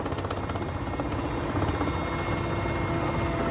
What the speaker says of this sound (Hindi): लगातार हमारे जवान हेलीकॉप्टर से ये बचाव अभियान चला रहे हैं